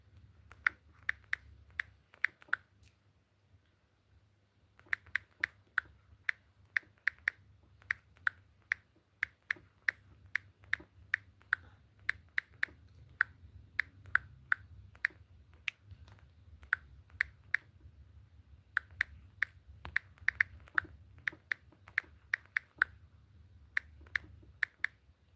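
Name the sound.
typing on a computer keyboard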